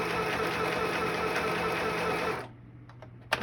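An Easy Home 12 stitch sewing machine runs a straight single-needle test seam with a steady, close mechanical whir that stops abruptly partway, followed by quiet and a single sharp click.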